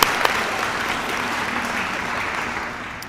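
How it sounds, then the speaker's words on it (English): An audience at a senior awards ceremony claps in a steady, fairly loud round of applause that holds evenly before easing slightly at the end. "Yeah, you can clap for that,"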